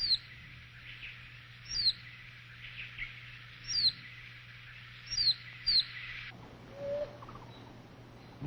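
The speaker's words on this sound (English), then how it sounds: "the unmistakable male oriole's call reverberates in the woods continuously throughout the entire day" A male maroon oriole calls in spring woodland, short bright whistled notes repeated at intervals of a second or two, moderately close against a faint steady hum and quiet forest background.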